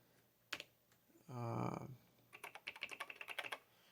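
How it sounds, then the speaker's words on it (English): Typing on a computer keyboard linked to a VT220-style terminal clone, heard as a quick run of close, light key clicks after a brief separate noise, fairly quiet overall. "I'll just try entering gibberish into the command prompt and see if I get something"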